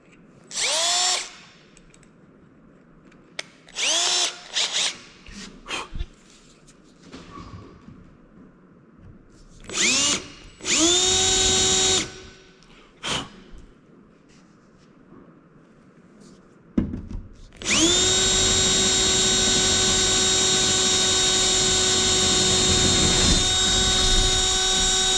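Power drill boring a hole for a marker light on a Kenworth cabover, several short whirring bursts spinning up and down, then one long sustained high drilling whine, close and loud with quiet gaps between.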